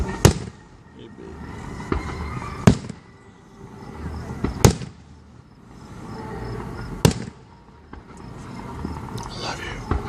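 Fireworks bursting over Monroe, Wisconsin in 2014, with several sharp booms a few seconds apart, each trailing a crackling rumble, while people talk quietly underneath.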